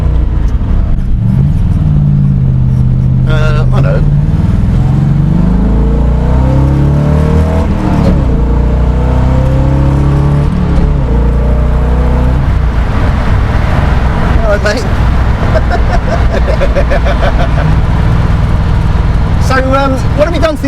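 Engine and stainless exhaust of a 1967 Corvette with a rebuilt engine, rumbling steadily and swelling through revs while driving, loud and continuous beneath intermittent conversation.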